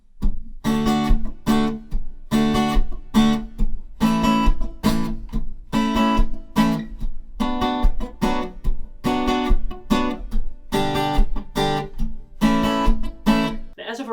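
Acoustic guitar strums open chords in a simple progression, each chord struck in even rhythmic bursts with short gaps between strokes, close and clear with no voice over it.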